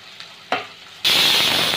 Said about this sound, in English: This is the onion cooking over here.